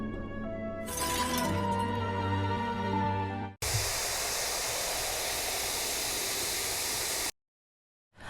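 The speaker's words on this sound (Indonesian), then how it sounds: "Daji kembali ke istana dan melihat kendi milik Zuchi yang hancur berkeping-keping" A clay jug (kendi) shatters into pieces in a Chinese legend drama: after a stretch of music, a loud, sustained crashing burst fills several seconds, then cuts off to silence.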